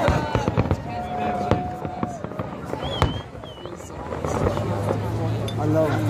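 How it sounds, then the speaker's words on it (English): Fireworks go off at Lake Tahoe in a string of sharp bangs and crackles, with whistling rockets rising between them, all amid ongoing chatter from a nearby group of people. "Fireworks."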